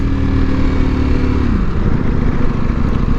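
A Ducati Panigale V4R motorcycle engine is heard up close during a downshift, a loud throbbing drone whose pitch drops midway and then settles into a rougher, lower rumble.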